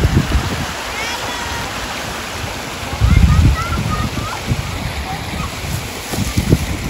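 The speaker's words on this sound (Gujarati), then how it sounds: "આ મોટો વોટરફોલ છે" Rushing water from a large waterfall roars steadily close by, broad and continuous, with a few louder surges and splashy bursts, while people talk over it.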